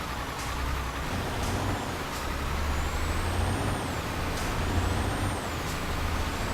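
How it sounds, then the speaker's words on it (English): Truck air brakes hiss in Euro Truck Simulator 2 over a steady low engine rumble, with a few thin tonal whines above. "Slam on the brakes, but it's okay"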